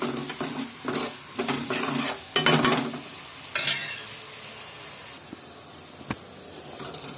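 Sliced vegetables frying in oil in a pan for a potato and cauliflower curry, sizzling steadily while a spoon stirs and scrapes against the metal in repeated bursts, close by and without talk.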